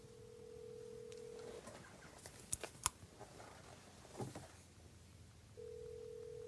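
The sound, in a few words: telephone call being dialed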